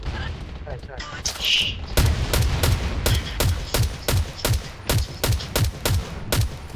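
Rapid gunfire in the Garena Undawn shooter game: a regular series of about a dozen sharp, loud close shots in steady rhythm, preceded by scattered action noise.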